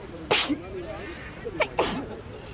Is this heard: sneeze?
yes